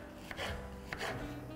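A knife chops courgettes on a board in two quiet, distinct strokes, each a short scraping thud, with near silence between them.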